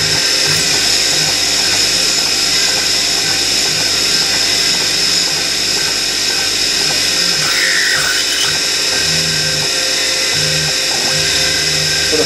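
A drill bit bores into metal on a Chester DB10 lathe, a loud continuous high-pitched whine with a steady motor hum beneath, unbroken for the whole stretch, close by and with no talk.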